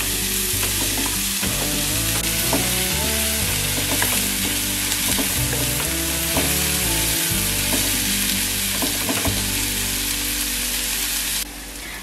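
Vegetables with spring onion sauté in a hot pan for fish chilly, giving a steady, loud sizzle with stirring scrapes throughout, over a tonal background, with no talk.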